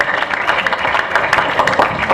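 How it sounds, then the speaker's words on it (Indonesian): Audience applause at a school graduation ceremony, a steady dense patter of many hands clapping together, sustained and fairly loud throughout. "Monggo beri tepuk tangan sekali lagi kepada Ananda yang telah menyelesaikan karya ilmiah remaja."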